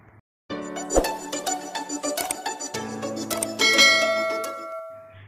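A bright notification bell sound effect: a sharp metallic clang followed by layered ringing chimes that sustain and swell, clean and close with no voices.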